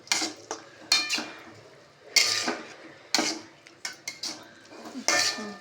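Metal utensils clang and scrape in sharp, irregular bursts as torn chapathi is tossed into a pan for kothu, each hit close and bright against quiet gaps.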